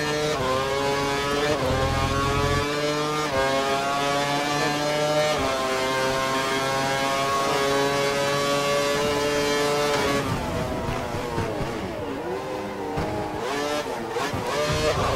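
A Formula 1 race car in F1 2012 during qualifying in Hungary accelerates hard, its high engine whine rising through the gears, then easing and dropping in pitch near the end, loud and continuous with no talk.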